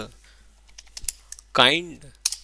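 Scattered clicks of computer keyboard typing come from someone writing Kubernetes ReplicaSet YAML, with a short burst of speech partway through.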